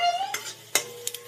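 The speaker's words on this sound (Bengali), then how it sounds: "পেঁয়াজটা যখন হালকা ভাজা হয়ে যাবে দিয়ে দেবো অল্প গোটা জিরে" Whole cumin and lightly fried onion cooking in mustard oil in a wok, a soft sizzle under a few brisk utensil scrapes and clinks against the pan.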